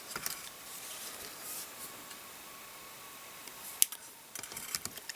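A single sharp snip as a short length of floral wire is cut, one crisp click in an otherwise quiet room with faint handling noise before and after.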